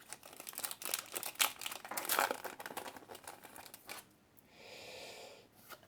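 A Pokémon Sword and Shield booster pack wrapper crinkles and tears under close, busy handling for several seconds, then the rustling thins out into a softer, steady hiss of plastic.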